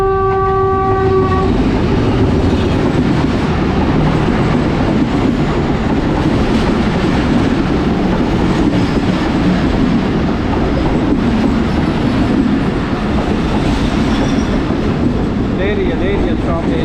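The Jaffar Express passenger train arrives at a station in Pakistan, opening with a sustained horn blast over a loud, steady rumble and clatter of rail cars rolling past close by, with faint voices in the background.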